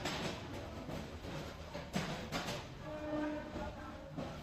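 Railway station platform while waiting for a train: a rumbling, rolling rail noise with a few metallic thumps and a faint tonal whine, moderately distant and continuous.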